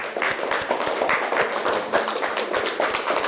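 A classroom group of students applauds after a group presentation, with steady, dense clapping that carries evenly and fairly close from start to finish, without speech.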